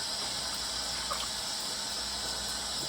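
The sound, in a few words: washing tomatoes in water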